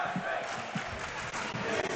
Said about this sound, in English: Crowd chanting he's a freshman